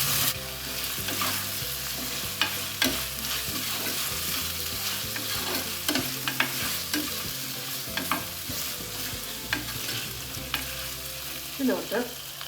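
Chopped raw green plantain (nendran) sautéed in a pan with a cooked-down masala, giving a steady close sizzle with repeated stirring scrapes and clicks throughout, no talking.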